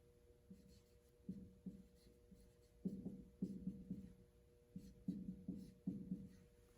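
Marker strokes on a board while someone draws a diagram: a run of short, scratchy bursts in uneven clusters, close and fairly quiet over a low steady room hum, with no talking.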